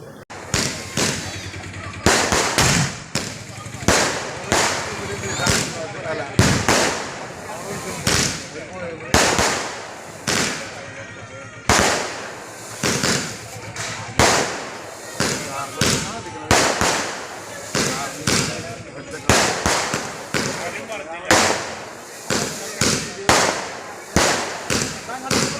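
Fireworks go off at a temple festival held at a family ancestral home, a long run of loud cracking bangs in quick irregular bursts, with voices heard between them.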